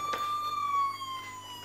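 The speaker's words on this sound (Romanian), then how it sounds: "are o sirenă care se poate aprinde." A Playmobil 70053 toy medic trailer's siren sounds as a thin, steady electronic tone that slowly falls in pitch, fairly close, with light handling clicks at the start.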